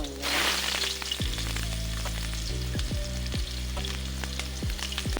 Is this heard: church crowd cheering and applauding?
no